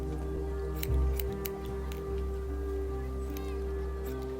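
Scissors snip a few times in The Walking Dead: A New Frontier video game, sharp quick cuts over a steady low game-ambience hum, with no talk.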